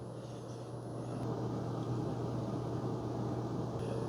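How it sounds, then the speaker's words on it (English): A steady low hum with broadband hiss from a Bunn Speed Brew Platinum Thermal 10-cup coffee maker's heating element bringing water toward a boil, constant and unbroken throughout. "You will hear kind of a heating element kind of boiling the water back there."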